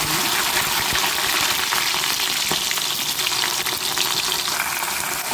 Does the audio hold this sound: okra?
yes